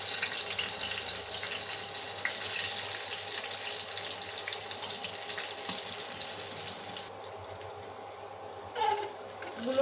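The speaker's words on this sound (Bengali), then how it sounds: "এখন বাকি সব বেগুন আমি ভেজে নেব" Eggplant slices frying in a pan for a spicy home-style dish, a steady close hiss of sizzling oil that quiets near the end, with faint clinks.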